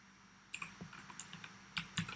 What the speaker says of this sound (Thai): แล้วเขียน Python สมมติแล้วก็พิมพ์พิมพ์อะไรง่ายๆก็ได้นะคะ